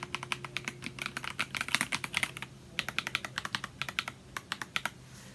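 Rapid typing on a Yunzii mechanical keyboard fitted with new keycaps: quick, crisp clacks in bursts with short pauses, close and fairly quiet, with no talking.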